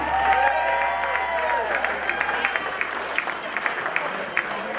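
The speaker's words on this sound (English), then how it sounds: "a round of applause for Jaren and Reagan Young" Wedding guests applaud the newly married couple at the reception, a lively round of clapping with scattered sharper claps and some crowd noise, while talk and faint music carry on underneath.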